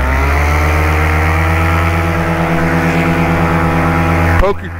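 A paramotor engine held at high throttle by its pilot drones steadily and loudly with a strong harmonic buzz, then cuts off abruptly near the end.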